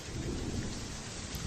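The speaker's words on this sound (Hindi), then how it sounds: "अचानक से बारिश, कड़कती बिजली" Heavy rain pours in a dense, continuous roar on a cold winter night, with deep rumbling thunder rolling beneath it, loud and enveloping throughout, with no voices.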